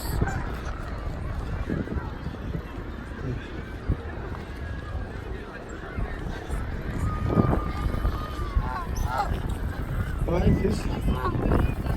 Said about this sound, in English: A lot of birds, wild ducks and pigeons.